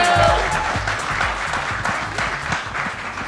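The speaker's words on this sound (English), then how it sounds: "can we get a big round of applause for Team Magnum?" Audience at a Magnum ice cream launch event applauding loudly, a full, sustained burst of clapping with crowd murmur beneath it.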